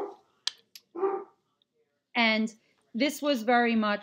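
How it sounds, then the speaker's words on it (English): A dog barks at people walking down a street, a few sharp barks heard in the background while someone talks over and between them. "I'm very sorry if you can hear my dumb dog barking in the background at people walking down my street."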